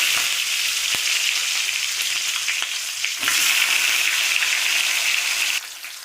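Onion sizzles loudly in hot oil in a pan for bitter gourd gravy, a continuous dense frying hiss with a few stirring clinks and a brief surge partway through.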